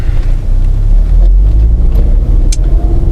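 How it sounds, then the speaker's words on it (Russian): A car engine rumbles at low speed while being parked, a loud, steady low drone with slight variations and a brief higher noise near the end, no talk. "Я машину припаркую и пойдем, хорошо?"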